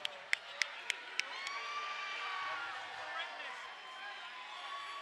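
Crowd at an RFC Fight Night event cheering and applauding after a bout, a broad sustained roar of voices beneath a few sharp claps or thuds at the start, with an announcer talking over it.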